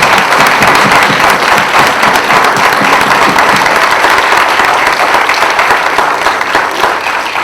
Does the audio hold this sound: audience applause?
yes